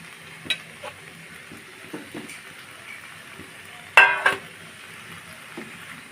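Fried baim eel fish being stirred into tomato curry in a pan: a soft sizzle under scattered spoon scrapes, with a sharp metallic clatter of utensil on pan near the middle, no talking.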